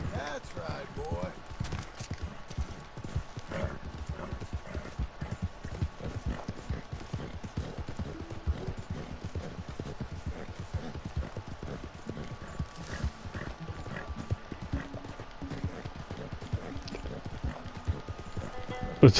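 Hooves clip-clop in a fast, steady rhythm as a horse is ridden in Red Dead Redemption 2, a close, continuous patter lasting throughout with talking at times over it.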